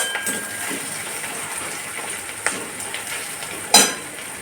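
Lote fish (Bombay duck) frying in a pan gives a steady, soft sizzle with a few sharp clicks and one louder clatter near the end; no one speaks.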